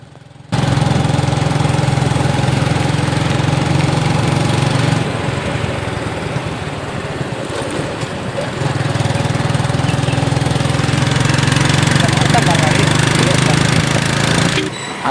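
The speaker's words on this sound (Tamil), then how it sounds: "வண்டி செம்மையாக அணத்துதுங்க வண்டி சவுண்டை கேட்டாலே எனக்கு இதாக இருக்குது திணறிக்கிட்டு போகுது" A vehicle engine labours loudly on the uphill road to Kodaikanal, a close, continuous straining drone that dips slightly in the middle stretch before building again.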